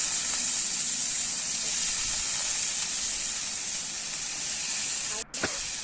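Small-cut potato and eggplant pieces frying in hot oil in a home kitchen give a steady, dense hiss that holds throughout, with one brief dropout near the end.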